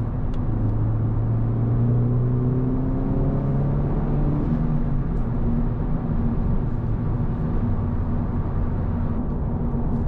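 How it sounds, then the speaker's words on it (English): Loud engine roar building steadily as a 2023 Honda Civic Type R (FL5) accelerates hard, a deep rising drone with a rough exhaust rumble throughout. "Let's do a small pull here."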